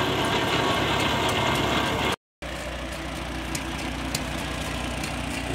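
Small 1952 Farmall Cub tractor engine running with a steady mechanical clatter and gear rattle. The sound cuts out briefly, then returns at a slightly lower level, close and continuous.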